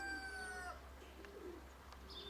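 Soft pigeon coos drift in over a steady low hum and outdoor background noise, with a few faint higher bird calls.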